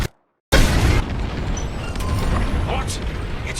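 Bombs detonate in the Star Wars: Squadrons space-combat game, a loud booming blast after a brief silence, followed by a sustained rumbling roar with lingering crackle and faint distant bursts.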